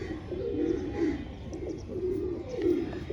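A male closed-eye pigeon, cross-bred from Jaunsure stock, coos in soft, low, rolling phrases repeated about four times, close by, over a steady background hum.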